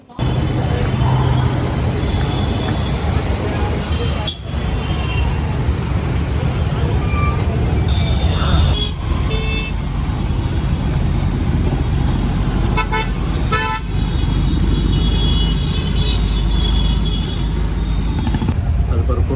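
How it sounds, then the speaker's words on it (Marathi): Busy road traffic with engines rumbling continuously and several car horns tooting at intervals, some near and loud, heard during a rickshaw ride. "ट्रॅफिक बघू शकता आपण"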